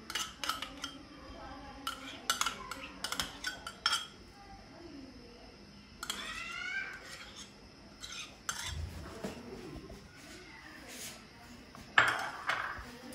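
A spoon mixes mayonnaise into cooled chicken patty filling in a bowl, giving clusters of sharp clinks and scrapes against the bowl with brief quieter pauses between; a voice speaks in the background.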